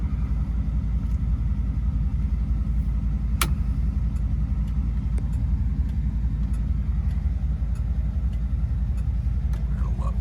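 A fuel-injected 1958 Chevrolet Impala on the move, giving a steady, close low rumble of engine and road noise throughout, with faint ticks now and then.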